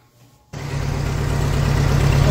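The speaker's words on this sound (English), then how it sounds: "Okay, we got tractor running." A Ford 8N tractor engine starts up and runs at a steady idle, a loud, continuous low rumble that stays even and fairly close.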